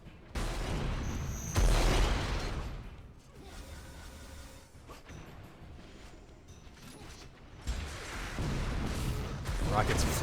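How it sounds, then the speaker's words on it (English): Rockets whoosh and burst in Unreal Tournament during a competitive duel match, heavy booming blasts rising and falling over several seconds amid constant arena noise while a commentator talks throughout. "Rockets flying around."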